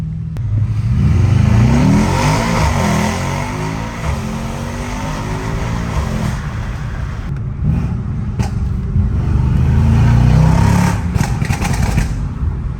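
A Mercedes E63s with a Stage 2 tune, downpipes and decat revs up and down close by, its exhaust rumbling, with sharp popping crackles breaking through during the later revs.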